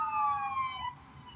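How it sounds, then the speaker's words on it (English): Emergency vehicle sirens passing outside a KFC restaurant, a wailing tone that sweeps and slowly drops in pitch as it moves away, loud at first and then fading under street traffic noise. "Sirens going by."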